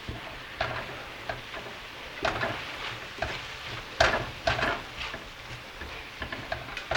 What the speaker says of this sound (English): And we'll stir it around.